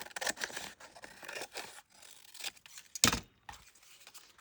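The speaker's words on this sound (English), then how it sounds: "We're going to trim this edge off." Scissors snip an edge off a Christmas frame craft, a few sharp cuts and rustles of paper or card up close, with one louder crisp cut near the end and quiet handling between.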